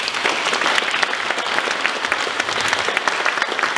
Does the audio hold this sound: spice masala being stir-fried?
no